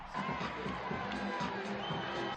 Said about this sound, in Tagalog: dumagundong ang hiyawan ng fans na excited manood ng live ng paghaharap nila ni Alicia Parks